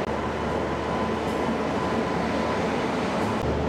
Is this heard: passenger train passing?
yes